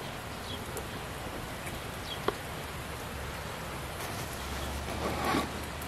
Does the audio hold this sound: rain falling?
yes